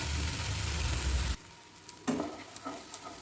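Masala spices fry in oil in a pan for a cauliflower curry, a loud close sizzle that cuts off abruptly, followed by a few soft stirring scrapes and light clinks.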